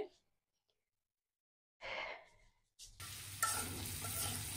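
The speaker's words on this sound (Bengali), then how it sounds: "এই যে এখন আমার আলু ভাজি হয়ে গেছে।" Potatoes fry in a pan. Near-silence comes first, then a brief voice, and finally a close, steady sizzle with stirring noises at the end.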